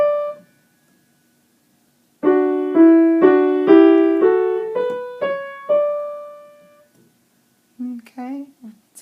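Piano with the left hand sounding a low F while the right hand plays above it, a run of about eight sustained notes stepping through, each struck cleanly and decaying, followed by a short pause and a few softer notes.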